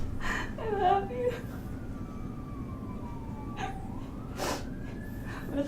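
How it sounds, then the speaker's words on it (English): A siren wails in the distance, its faint tone sliding slowly down and back up while soft breathy human sounds, a gasp and a whimper, occur close by. "What a time for sirens."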